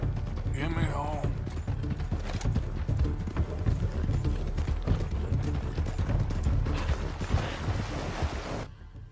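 A horse in Red Dead Redemption 2 clip-clops along at a steady gait, its hoofbeats rhythmic and close, with tack and gear rattling and a faint whinny amid background game sound.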